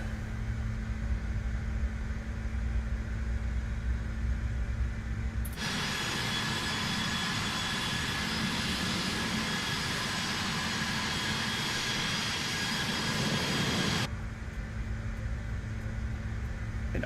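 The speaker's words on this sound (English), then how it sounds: "Down for a bit so we can listen to the aircraft take off." Bombardier CRJ 700 regional jet taking off in Papua New Guinea, its engine roar swelling suddenly into a loud sustained rush for several seconds before cutting back to a steady background hum, heard from inside or near the aircraft.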